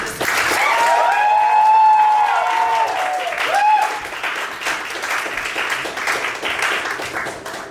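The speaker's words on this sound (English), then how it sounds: "Please give a round of applause to Maggie." An audience at a literary salon evening greets a performer with loud applause, cheers and whistles. The clapping is strongest at first, then tapers into scattered claps.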